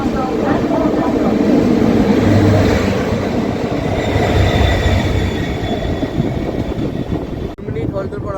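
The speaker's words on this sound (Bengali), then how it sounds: "আমাদের এই ট্রেন এখন নিউ হাফলং স্টেশন থেকে ডিপার্চার করে নিল" Mail Express train 1564 pulling out of New Haflong station on the Agartala–Narangi run, heard from on board as a loud, continuous close rumble and clatter of wheels on rails that drops out sharply near the end.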